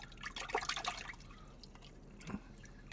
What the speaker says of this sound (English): So we're going to come over here to our wash bucket and quickly clean up